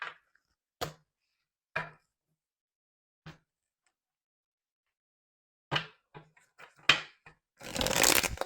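Tarot cards being shuffled in a quiet room: a few separate riffs and taps spaced apart, then a denser, louder flurry of shuffling at the end, with no voices.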